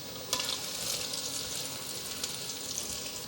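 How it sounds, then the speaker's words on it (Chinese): Ginger and softened celery stir-frying in vegan cream over medium-low heat, a steady close sizzle with a few sharp scraping clicks of the spatula early on and near the end, no voices. "现在把姜放进来炒一炒"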